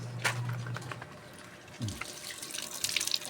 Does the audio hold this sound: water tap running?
yes